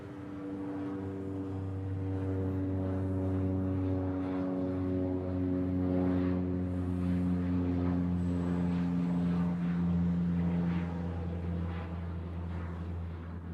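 C-17 military transport jet parked at Honolulu airport, its engines running with a steady, loud low hum and tonal drone that holds unbroken throughout.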